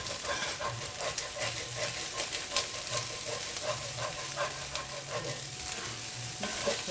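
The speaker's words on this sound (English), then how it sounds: "Mix it very well." Minced sausage sizzles and fries in a single pot while a utensil stirs it steadily, giving a continuous close crackle with repeated scraping strokes throughout and no voices.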